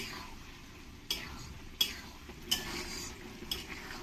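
Green peas being stir-fried in a kadai, faint background sizzle broken by four or five spoon scrapes spaced roughly every second.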